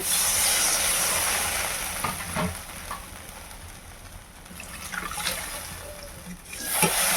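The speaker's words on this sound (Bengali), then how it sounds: "এরপর আমি পানি দিয়ে দেবো" A hot pan of sautéed spice paste for a fish curry hisses and sizzles as water goes in, with the hiss swelling and fading along with a few scraping stirs and knocks.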